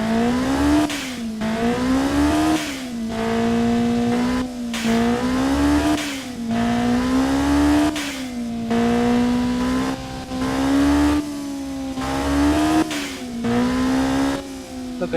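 A tuned car engine with its stock setup modified, revving repeatedly in a rhythmic series of rising and falling pulls, loud and close with the idle dropping between each blip.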